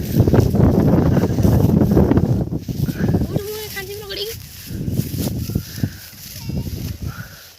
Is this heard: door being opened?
no